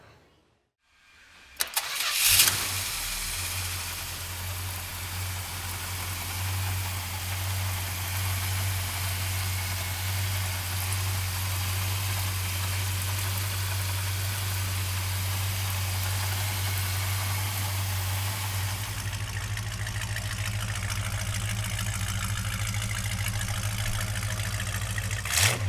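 A 1968 Dodge Charger with a 383 V8 cranks briefly, catches with a loud bark and settles into a steady, deep idle that rumbles on alone for over twenty seconds.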